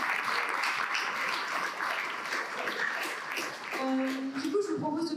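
An audience at a morning talk event claps warmly and steadily, then the applause thins out as a voice begins speaking near the end.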